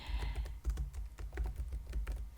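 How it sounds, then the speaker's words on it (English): Rapid, uneven keystrokes on a computer keyboard as code is typed out, close and clear with a soft low thump under the clicks and no talking. "I'm actually typing everything out, because the typing sounds are the most important"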